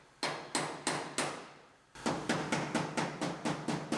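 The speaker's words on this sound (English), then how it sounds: "Kind of mangled it, so we'll hammer it flat again." Sharp metallic hammer blows flattening mangled sheet metal on a rolled-over Chevrolet Silverado's roof: four spaced strikes, a brief pause, then a faster steady run of about nine ringing hits, close and loud.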